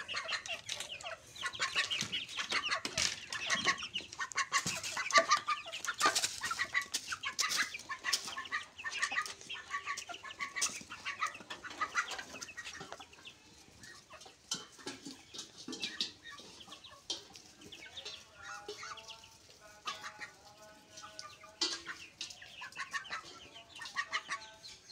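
Chickens and ducks on a rural homestead cluck and squawk continuously at close range, with scattered sharp calls and softer clucking throughout.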